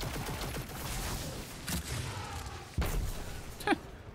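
Video game grenade launcher fire and explosions rattle through a dense, continuous barrage, with a couple of sharper blasts standing out near the end.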